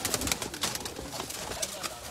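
Teddy pigeons coo softly in a steady, faint murmur, with light rustling and a voice in the background.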